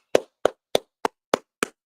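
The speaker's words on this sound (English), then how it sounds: "let's go ahead and let's get into class. So let's go ahead and clap it up" Six crisp, evenly spaced hand claps sound one after another at a steady beat during a law class, fairly quiet and with no talking over them.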